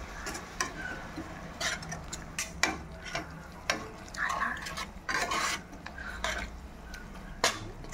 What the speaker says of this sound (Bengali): এবার মশলাটাকে কষিয়ে নিচ্ছি ভালোভাবে।